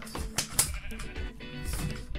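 Sheep in the Minecraft video game bleat in several short, clear calls over a quiet in-game background, with no talking.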